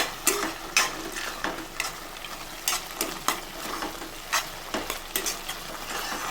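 Fried dry fruits are stirred by spoon into thick bottle gourd halwa in a pan, giving repeated scraping strokes and soft clinks at a steady rhythm, close and moderately loud, with no talking.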